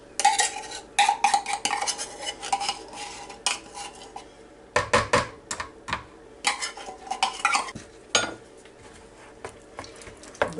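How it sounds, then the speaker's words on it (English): A thick condensed mixture for cranberry salad is stirred with a utensil in a bowl, giving irregular close scrapes, clinks and knocks in quick bursts, with no talking. "We're going to stir that together."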